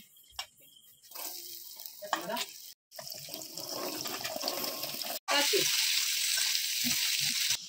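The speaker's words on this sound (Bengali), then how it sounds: "কড়াই তেল দিয়ে দিয়েছি, আলু ভেজে নিচ্ছি।" Oil sizzles and crackles in a pan, growing louder and denser after a brief break. A few quieter clinks come first.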